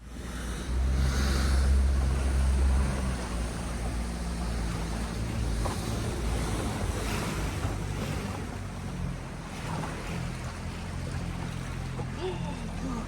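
A small chartered boat rides ocean waves, with a loud continuous wash of water and engine rumble, wind buffeting the microphone throughout and a heavier thump of hull and spray near the start.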